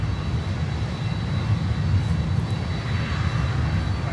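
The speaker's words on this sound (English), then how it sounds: "next inbound is Avianca with a 320 from Bogota" Avianca Airbus A320 airliner inbound from Bogota heard as a steady, distant low engine roar at Miami, continuous and unbroken with no talk.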